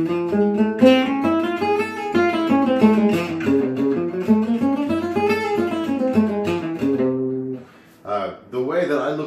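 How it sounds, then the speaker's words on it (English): An augmented scale played on guitar runs up and down in quick, evenly spaced single notes. The notes sound close and clear, with a short pause near the end before a few more notes follow. "And the scale sounds like this."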